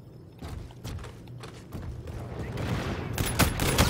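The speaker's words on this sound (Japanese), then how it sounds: "危ねえ、サブマシンガンだ" Rapid bursts of submachine gun fire in a Call of Duty: Infinite Warfare match on the Heartland map, sharp repeated shots growing louder toward the end, with a voice briefly talking over them.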